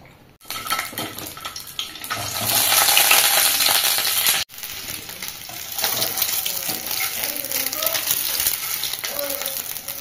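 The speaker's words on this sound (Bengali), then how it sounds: "ডিমটা ভেজে নেব।" An egg fries in a pan with a loud steady sizzle, broken by a brief pause, with utensils clinking and scraping and a voice speaking at times.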